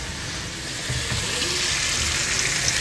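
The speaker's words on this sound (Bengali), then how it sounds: "এটাকে একটু ভালোভাবে এখন ভেজে টেজে নেই" Hilsa fish frying in a pan, a loud dense continuous sizzle with broadband hiss close by and no talking.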